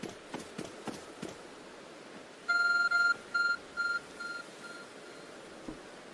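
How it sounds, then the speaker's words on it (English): A glowing object in the video game Pokémon Legends: Arceus gives a series of electronic beeps, one long tone then several shorter repeated ones, fairly clear over quiet background game ambience with soft footsteps. "There's a glowing, beeping object over there."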